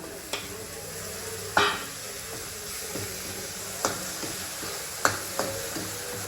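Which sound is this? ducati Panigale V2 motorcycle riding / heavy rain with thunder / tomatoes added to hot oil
tomatoes added to hot oil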